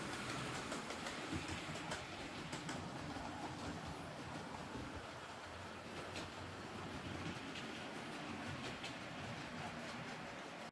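Model railway train running along the track in a layout, a steady rolling rumble with faint rhythmic clicking and light squeals, continuous and fairly quiet throughout.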